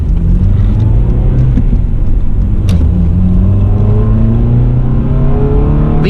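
A 7th-generation Honda Civic Si engine revs loud and close, its tone rising and climbing steadily through the gears, with a stock exhaust that lacks VTEC exhaust sound.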